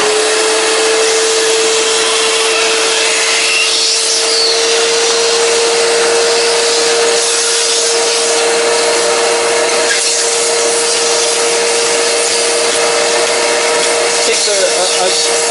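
A vacuum pump draws the air out of a food storage package being sealed for long-term storage. It gives a loud, continuous whooshing drone with a steady tone that holds unbroken for the whole stretch.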